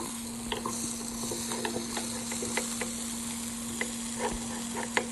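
Tapioca being stirred into coconut roasting in a pan for kappa biriyani: a steady sizzle with a sharp series of scraping, stirring clicks spread across the stretch, close by, with a constant low hum underneath and no talk.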